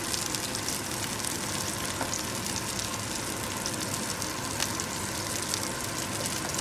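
King fish frying in a pan for biryani gives a dense, steady, close sizzle and crackle that runs unbroken and alone throughout.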